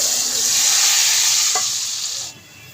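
Hot tadka tempering is poured over cooked moong masoor dal, giving a loud, steady hiss and crackling sizzle that fills the scene and then drops off sharply near the end.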